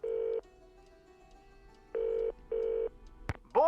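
A telephone in a Nancy Drew video game is being dialed, giving three short, clean electronic beeps at uneven intervals. A sharp click follows right at the end.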